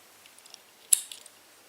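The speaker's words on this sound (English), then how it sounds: "At this point you can cut your yarn" Scissors snip through crochet yarn while fastening off a blanket project: a single sharp, close cut followed by a few faint small clicks of the blades, otherwise quiet.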